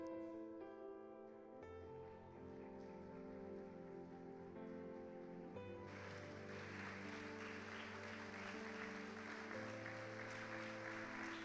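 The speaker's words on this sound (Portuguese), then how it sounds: "Esses aplausos demonstram o carinho" Congregation applause during a church installation service swells after music with sustained tones, becoming a dense, steady wash of clapping that fills the room for several seconds.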